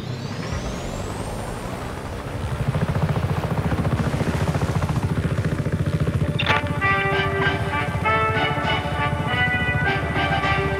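A helicopter in the video game Just Cause 3 keeps up a steady, loud rotor and engine drone, and a bright tonal whine rises over it partway through, with no talk.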